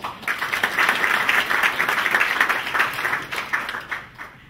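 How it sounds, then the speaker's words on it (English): A crowd at a local business community meeting applauds as two presenters come up, steady clapping that tapers and thins toward the end. "Please give them a round of applause."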